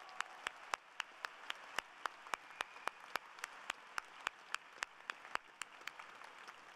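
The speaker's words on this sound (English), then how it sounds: "Let's give our faculty a big round of applause." Commencement audience at an engineering school ceremony applauding the faculty, faint and distant, with evenly spaced sharp claps standing out over a steady wash of clapping.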